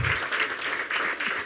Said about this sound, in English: If you give Michael and Francisco a round of applause from the HALT